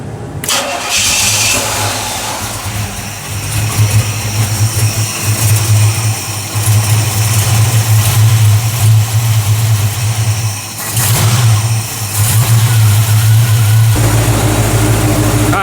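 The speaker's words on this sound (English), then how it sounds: "The engine already right now seems a lot more stable at idle." A Chevy Vortec 350 V8 in a G-Body Cutlass cranks and fires after an intake manifold gasket replacement, then settles into a loud, steady, close idle with a brief dip and a slight rev near the end.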